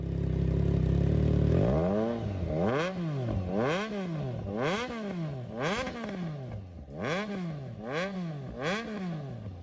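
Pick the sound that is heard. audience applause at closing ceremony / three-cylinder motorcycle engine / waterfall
three-cylinder motorcycle engine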